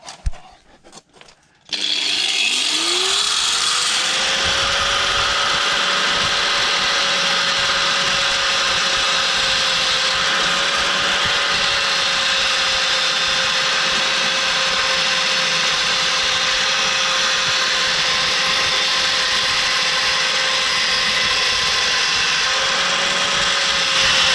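A power tool cuts through a seized track rod end on a Mini R53: after a few brief knocks the motor starts with a rising whine and runs loud and steady for a long stretch, with slight pitch dips as it bites.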